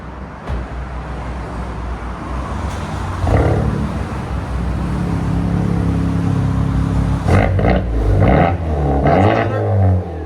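A straight-piped Honda Civic Type R with a 2.0L turbo engine revs loud and close, building into a deep raspy roar, with sharper bursts of throttle near the end.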